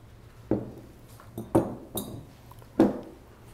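Glass pumpkin decorations clink together as they are handled, giving three or four sharp, separate knocks spaced about a second apart. Softer rustles come between the knocks, close by, with no talking.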